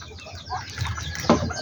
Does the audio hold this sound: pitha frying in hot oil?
no